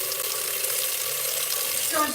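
Water runs steadily from a tap for the cold water method with egg noodles, a continuous broad splashing rush with a faint clatter near the end.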